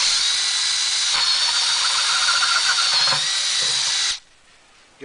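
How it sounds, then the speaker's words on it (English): A battery drill with a 1¼-inch blade bit bores through a plastic bucket, a loud steady high-pitched whine that cuts off abruptly after about four seconds, leaving near silence. "I'll go ahead and drill that out real quick."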